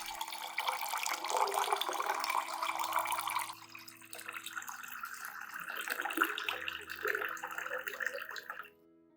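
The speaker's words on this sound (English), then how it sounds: "Add 500 milliliters of room temperature water to dilute the solution." Room-temperature water pours and splashes steadily into a container, about 500 milliliters, the gushing tone shifting midway as it fills, then stops abruptly at the end.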